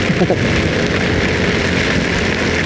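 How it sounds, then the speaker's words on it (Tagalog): Heavy typhoon rain pours down during a ride, a loud, dense and constant roar of drops on surfaces and rain gear that fills the whole clip. "Butil ng ulan. Butil na. Patak ng ulan."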